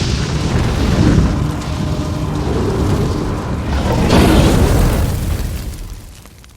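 A booming explosion rumbles through a Subway Surfers horror game, a broad, rolling blast that swells, then swells again before fading out over several seconds, with no talk over it.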